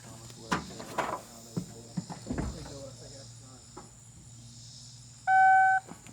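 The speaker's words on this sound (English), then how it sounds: "Oh, we got beeping." A single steady electronic car warning beep from a Ford F-250 sounds near the end, after some clattering and handling noises, over a faint background hum.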